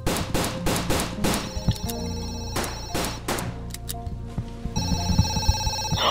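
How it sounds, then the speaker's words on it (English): A telephone rings in a hotel in the Roblox video game, a ringing tone that comes through near the end among loud, sharp bursts like gunfire, with no one talking. "The phone is ringing."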